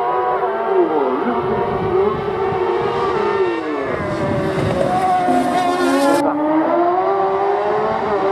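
A GCTS race car at the Hébécrevon hill climb screams past close by, its engine note rising and falling through gear changes, loud and alone with a brief high rasp before easing away.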